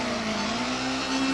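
A rear-wheel-drive drift car in the FR Legends video game holds a steady engine drone under handbrake and throttle, a short continuous rising tone with no talk.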